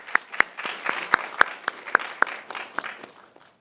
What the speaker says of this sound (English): a round of applause for our judges one last time